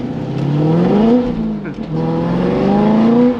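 A 2005 Chevrolet Corvette's engine pulls hard from inside the car, rising in pitch through one gear, dipping briefly at a shift, then climbing again in a steady, loud drone.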